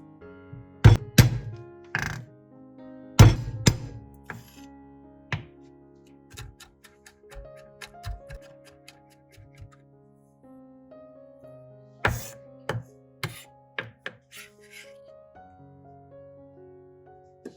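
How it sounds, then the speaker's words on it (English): A kitchen knife crushes and chops garlic cloves on a cutting board, giving a few heavy thuds followed by irregular lighter knocks and taps, close and clear in a quiet room. "Take a few cloves of garlic, crush them with a knife, then chop them finely"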